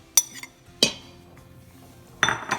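Sharp clinks of a metal utensil against an Instant Pot as cornstarch slurry is stirred into a pot roast, four or five distinct taps spaced irregularly with quiet between them.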